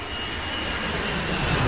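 The engines of a Boeing 757 cruising at 37,000 feet make a steady, broad roar with a faint high whine, unbroken and slowly swelling, with no voices.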